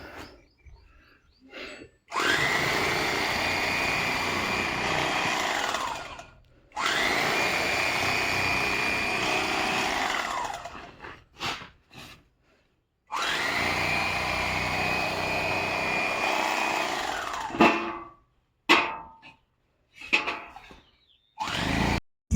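A rice mill machine hulls home-grown paddy rice in three long, loud, steady grinding runs, each a few seconds, separated by short gaps with clanks and knocks.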